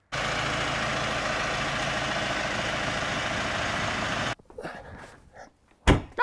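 A tractor engine idles loudly and steadily for about four seconds, a continuous low mechanical drone, then cuts off abruptly into quieter scuffling and a short burst of noise.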